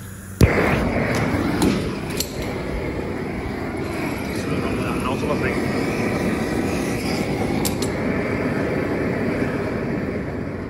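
A gas blow lamp lit with a welder, beginning with a sharp pop as it catches and then settling into a loud, steady roaring burn that continues at an even level.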